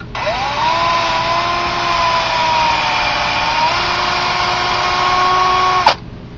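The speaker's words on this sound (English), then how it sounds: "we're going to actually shorten down a little bit of the brass at each end" A power tool whines steadily as it trims the ends of brass bullet casings for a pen, running loud and close at a constant pitch for about six seconds before cutting off with a short clack.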